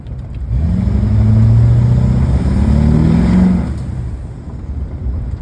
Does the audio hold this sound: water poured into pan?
no